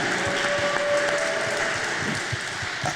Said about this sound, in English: Big applause for this man